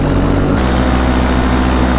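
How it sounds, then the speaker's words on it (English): Steady, loud drone of a small aircraft's engine in flight, a continuous low hum with propeller tone running throughout, slight shift in texture partway, no voices. "Listen to the hum of my engine"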